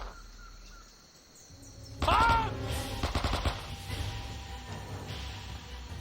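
Rapid machine gun fire breaks out in the World War II shooter game Men of Valor, a dense rattling burst after a quiet lead-in, with game ambience and a brief voice.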